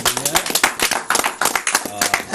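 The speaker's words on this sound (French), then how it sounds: "En tout cas, on peut applaudir aussi" Scattered hand clapping from a small group, uneven and close, with voices talking over it.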